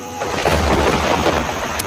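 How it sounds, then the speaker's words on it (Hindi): Heavy thunderstorm effect: a deep rolling rumble of thunder over a steady wash of torrential rain, loud and close, with no voices. "मूसलाधार बारिश भी शुरू हो चुकी थी।"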